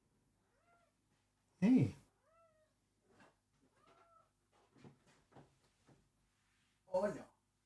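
A house cat meows close by, two loud drawn-out cries several seconds apart, with small chirpy sounds between them in an otherwise quiet room; a person speaks briefly.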